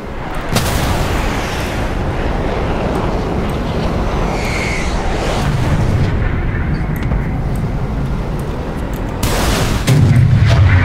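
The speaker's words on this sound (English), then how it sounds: "Right as I fire a missile, somebody else shoots a missile." Loud, continuous video-game combat in an aircraft game with a minigun-armed plane, as missiles launch and explode: a dense rumbling barrage with sharp bursts near the start and end, and a faint voice partly beneath it.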